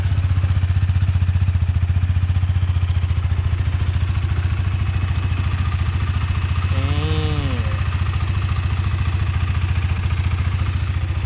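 A ten-year-old Honda CBR150i motorcycle engine idles steadily and smoothly nearby with an even, rapid throb; a brief faint whining tone rises and falls partway through.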